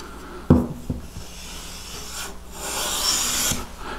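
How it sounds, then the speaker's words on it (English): Wooden smoothing plane taking shavings off a board, a sharp knock followed by a few soft hissing swishes of the blade across the wood, close but fairly quiet. "I'll take my smoother to it."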